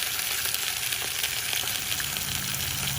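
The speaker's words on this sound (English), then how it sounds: "we'll start browning our pig feet and our sausage" Pig feet and sausage browning in a pan give a dense, steady sizzle, loud and close, with faint stirring clicks and no talk.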